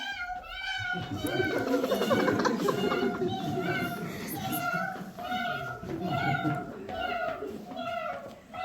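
Several children's voices mimic cat meows in repeated, drawn-out calls during a kindergarten performance, overlapping with lively chatter and play noise throughout.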